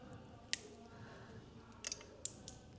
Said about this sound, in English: So with a snip and a snip snip.